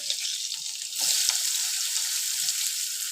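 Onion sautéing in a pan with turmeric and green chili for rice kurdai: a bright, continuous hiss that swells slightly after the first second and holds steady, close and fairly loud, with no talking.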